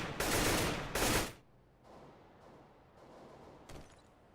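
Automatic rifle fire in a first-person shooter match, two loud sustained bursts up front, followed by quieter scattered shots and room noise.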